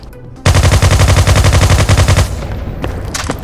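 Rapid automatic gunfire in a Steam video game, a loud close burst of evenly spaced shots lasting about two seconds, then a quieter tail with a couple of faint clicks.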